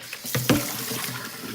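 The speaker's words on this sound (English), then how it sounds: "actually wash some more potatoes" Gold potatoes are washed under a running kitchen tap: a close, steady stream of water splashing, with a brief stronger gush early on.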